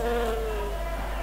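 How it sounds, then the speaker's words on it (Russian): A steady insect buzz like swarming bees in a video game, droning evenly and fairly close throughout with a wavering pitch and no voices. "ищем пчел"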